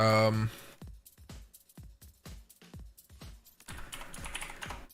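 Typing on a computer keyboard: about a dozen crisp, close key taps in an uneven rhythm, after a brief burst of voice at the start and before a noisier stretch at the end.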